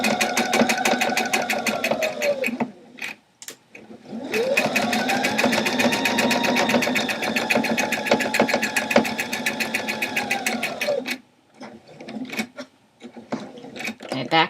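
A sewing machine stitches through denim while jeans are refashioned into a hip bag. Fast, steady needle runs go on for several seconds, with short pauses between bursts, close and loud, and no voices over the stitching.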